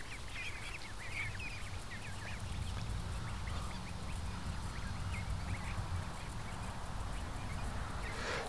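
Newly hatched ducklings give soft, high peeping calls before their quack develops, a steady chorus of small chirps over a constant low rumble of background noise, with no one talking.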